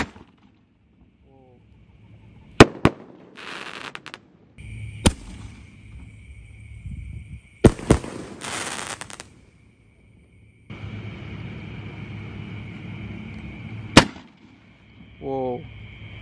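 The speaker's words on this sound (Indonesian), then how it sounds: "kita nyalakan pelontar yang warna pink atau merah muda" A pink firework launcher is lit and fires, giving several sharp, loud bangs at irregular intervals, fizzing hisses, and short rising whistles outdoors, with quiet gaps between.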